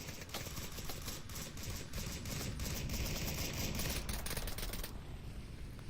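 Bursts of automatic rifle fire in the VR shooter Onward during a competitive match, a fast rattling stream of shots that sounds fairly distant and faint, trailing off near the end.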